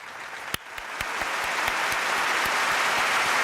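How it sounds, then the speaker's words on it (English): Audience applause at a football club live broadcast, building from scattered distinct claps into a steady, dense wash of clapping that holds at a fairly loud, even level. "another round of applause."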